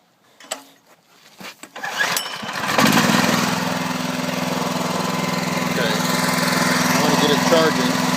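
A homemade rotary-engine generator used as a low-voltage backup battery charger cranks briefly in a few short bursts, then fires and settles into a steady, loud, buzzing drone that runs continuously close by.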